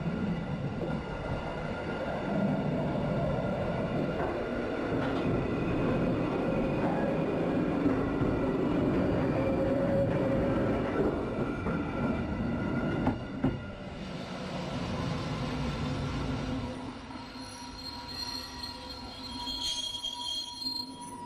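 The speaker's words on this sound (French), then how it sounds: "Suite de la visite avec les nouveaux trains Golden Pass Express à essieu variable." New Golden Pass Express variable-gauge train running on Swiss rails, a sustained rolling rumble with wheel squeal and a brief knock midway, then quieter tonal hum toward the end.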